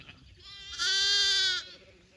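Hair sheep ewe gives a single clear, nasal bleat lasting under a second, loud and close, over faint background noise.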